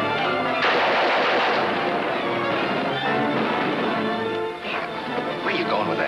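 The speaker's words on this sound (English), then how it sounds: "Hey, keep firing at the derrick. You keep it covered." Gunfire in a 1940 film shootout at an oil derrick: loud, repeated shots ring out over and over in a crackling barrage, with voices shouting amid the fire.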